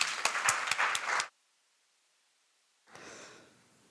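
A small audience at a university law clinic launch claps in a short, close burst of scattered hands, then goes silent, and a faint rustle follows.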